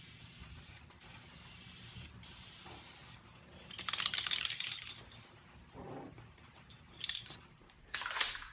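Spray paint hisses in repeated bursts as stripes are painted on a Dodge Challenger, close hissing passes broken by short pauses and faint clicks.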